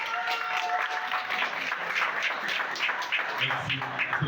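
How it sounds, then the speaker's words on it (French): Applause for the president at a town hall gathering, moderately loud and uneven, with clustered claps pulsing rather than a smooth roar, plus a low murmur near the end. "Est-ce qu'on peut applaudir très fort le président"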